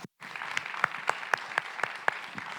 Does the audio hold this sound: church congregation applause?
yes